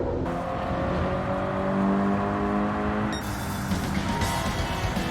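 A race car engine in Gran Turismo 7 holds a steady drone, then the pitch climbs as the throttle opens past a corner apex, a loud, close whir building toward the end with no talking.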